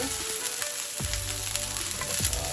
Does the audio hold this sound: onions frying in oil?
yes